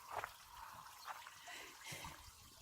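Engine coolant from a Mercedes Sprinter campervan draining and trickling onto the ground beneath the van, a faint, steady liquid dribble with a few soft splashy surges.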